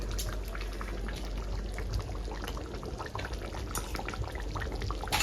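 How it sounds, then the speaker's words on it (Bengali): A mutton masala curry cooks with a dense, steady bubbling and sizzling as a spoonful of ghee goes in, close and continuous. "এখন দিয়ে দিব ঘি। দিয়ে দিব 1 চামচ ঘি।"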